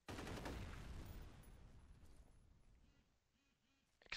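A loud burst of explosive booms and crackling blasts at the start rumbles and fades away in the game F.E.A.R. Files, followed by a faint electronic warble and another sharp hit.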